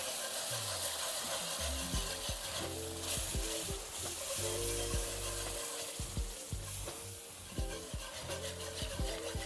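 Beef broth poured a little at a time into a hot pan of oxtails, sizzling and frying steadily throughout, with scraping and stirring clatter from a utensil against the pan.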